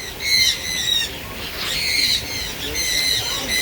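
Loud, repeated shrill squawks and calls from many birds in an aviary at a bird sanctuary in Costa Maya, Mexico, coming in bursts close by with a busy background.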